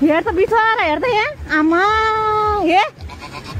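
A goat being unloaded from a microbus bleats loudly and close by, two drawn-out wavering cries in quick succession, with a person speaking over them.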